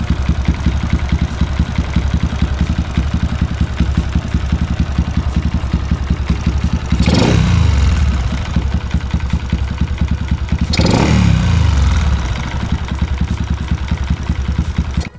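Close, loud idle of a Yamaha LC135 motorcycle engine with a fast, even pulse and a persistent knocking clatter, and two brief surges in engine note partway through.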